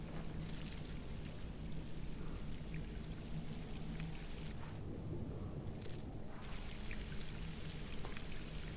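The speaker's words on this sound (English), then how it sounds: "Interesting to see that there's so much water leakage in here." Water leaking and dripping inside an abandoned prison in the video game Skyrim, heard as a steady wash of pouring, rain-like drips that carries on throughout at a moderate level with no talk.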